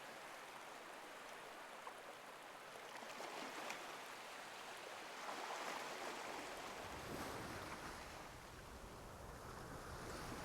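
Ocean waves in the video game Love and Deepspace: a faint, soft wash of surf and breeze, gently swelling in the middle and rolling on quietly with no other sounds.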